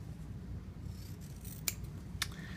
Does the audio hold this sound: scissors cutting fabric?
yes